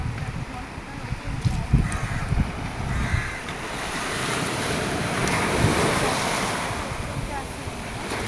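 Ocean waves washing onto a beach lined with coconut palms, a steady wash of surf mixed with wind buffeting the microphone and occasional thumps.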